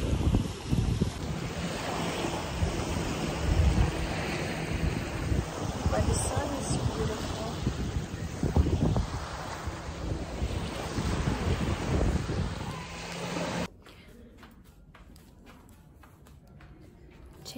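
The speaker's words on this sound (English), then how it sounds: "it's a bit cold and windy" Wind buffets the microphone over the steady wash of waves breaking on a beach in Ras Al Khaimah, ending abruptly in a much quieter stretch.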